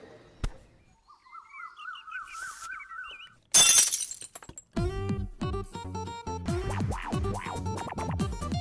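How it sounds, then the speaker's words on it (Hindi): A glass drinking tumbler shatters indoors in a family home, a sudden bright crash standing apart from a whistling melody before it and busy music that follows. "मेरे कांच का ग्लास तोड़ दिया।"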